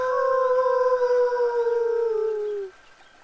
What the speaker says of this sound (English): Suddenly, he heard the sad howl from the forest again.